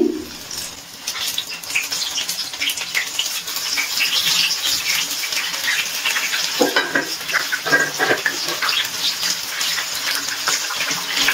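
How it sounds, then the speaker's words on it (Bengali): Chicken sticks fry in oil over a very low gas flame, making a continuous bubbling, crackling hiss at close range with scattered sharper pops, and no voices. "গ্যাসের ফ্লেমটা একদম লোতে রেখে ভেজে নিচ্ছি।"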